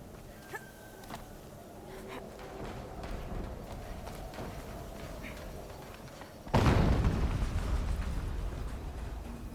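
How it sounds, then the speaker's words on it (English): An explosion in the video game Horizon Zero Dawn bursts in suddenly after a stretch of quieter game ambience, a loud low boom that keeps rumbling and decays slowly over several seconds. "An explosion."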